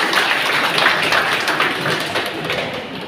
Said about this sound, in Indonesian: Tepuk tangannya dong untuk Ibu Legenda.